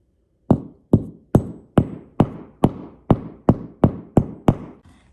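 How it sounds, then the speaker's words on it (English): Hammer tapping a protruding nail back into painted pine wood, eleven sharp, evenly spaced knocks about half a second apart, each ringing briefly, close and clear with no talking. "I'm gonna take this hammer and I'm gonna push it back in"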